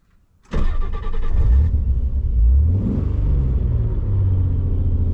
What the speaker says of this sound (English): let's see if the car starts today